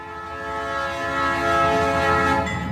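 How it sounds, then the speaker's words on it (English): A loud, sustained train horn blares with rumbling rail noise underneath, swelling slightly as the locomotive draws nearer. "they heard the sound of a locomotive getting closer to them"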